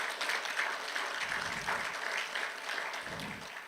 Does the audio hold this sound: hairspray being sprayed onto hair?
no